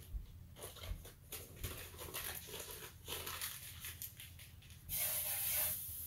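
Butter melts and sizzles in a very hot pan on the stove while a tuna melt is being made, giving a steady crackling hiss that swells louder near the end.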